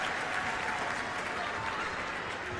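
A basketball crowd at Maples Pavilion during a Duke at Stanford women's game roars steadily through the final minute and a half, a dense, sustained wall of cheering and clapping with no pause.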